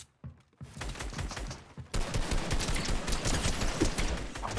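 SCAR assault rifle fired in Fortnite, rapid dense bursts of loud automatic gunfire, starting briefly and then continuing in a long sustained volley.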